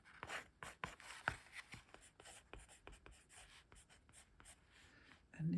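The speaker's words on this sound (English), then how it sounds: "I can quickly write it here." Handwriting with a pen on paper for a daily creative project, a string of soft, quiet scratchy strokes and taps at close range, with no talking.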